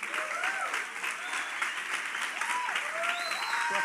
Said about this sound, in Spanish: Un aplauso para la mujer más linda.